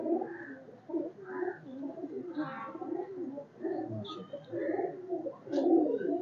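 Pigeons cooing in soft, repeated low calls, close by, with a few brief higher chirps mixed in.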